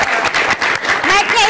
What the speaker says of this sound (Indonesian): Beri tepuk tangan untuk Ibu Vera.